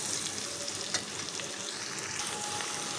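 Onions with garam masala frying in a pan, a steady close sizzle with faint stirring scrapes, no voices.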